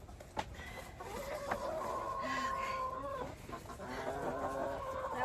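Backyard homestead chickens cluck and murmur close by in a quiet coop, a few soft drawn-out calls and short clucks over faint background noise with no talking.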